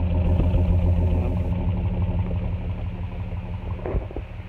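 A 1964 Ford F100 pickup engine idles steadily up close, a loud, even mechanical rumble with light clatter and no talking.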